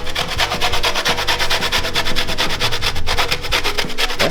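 Lemon being zested on a grater, a loud rapid rhythmic rasping of quick scraping strokes repeating steadily throughout, close up with no talk.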